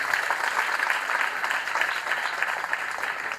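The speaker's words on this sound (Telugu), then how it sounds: "అంగీకరించిన వాళ్ళు గట్టిగా చప్పట్లు కొట్టారు" A church congregation at a sermon gathering applauds loudly, a dense and steady clatter of many hands that holds at an even level throughout.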